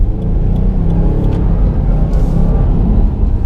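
A 2018 Subaru WRX STI engine drones and roars as it accelerates through a roundabout, a loud, steady exhaust rumble close by with no speech over it.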